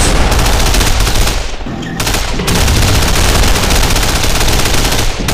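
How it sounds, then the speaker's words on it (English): Loud, close machine-gun fire rattles almost nonstop across a World War II battlefield in Men of War: Barbarossa, with rapid bursts, booming impacts and one brief lull. "Lay down some MG fire on those trenches."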